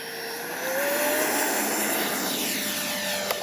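Freewing 70mm Yak 130 RC jet with electric ducted fan flying overhead after gear retraction, a smooth rising then steady whooshing whine at moderate distance, one brief click near the end.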